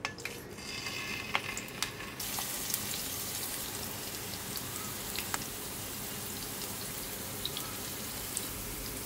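Potato slices frying in oil in a pan, giving a steady, dense sizzle throughout with occasional light pops and crackles, close and fairly quiet, with no talking.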